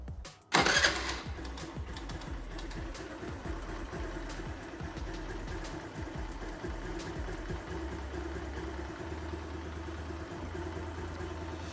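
Honda Activa scooter with a freshly adjusted carburetor starts up and runs close by, a steady mechanical engine drone holding under the throttle with no talking.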